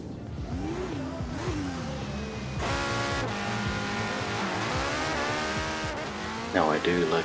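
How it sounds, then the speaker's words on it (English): Car launching off the line in Forza Horizon 4, rear-wheel-drive tune with a long first gear: a loud, steady engine roar climbs through the revs with tire squeal, a brief gear-change dip midway and a sharper burst near the end. "Now I do like this launch way better in the longer first gear"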